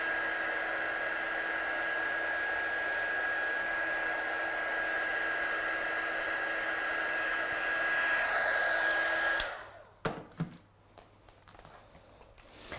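A heat tool drying a handmade card in a papercraft studio gives a steady, loud whirring blast for about nine seconds, then cuts off abruptly, leaving faint clicks and handling noises.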